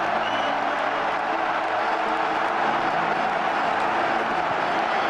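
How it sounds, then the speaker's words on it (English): A Groningen football crowd roars without a break after a goal in a Dutch league playoff match, a loud, dense wash of cheering, whoops and clapping from a packed stadium. "And the Groningen crowd here have gone absolutely wild."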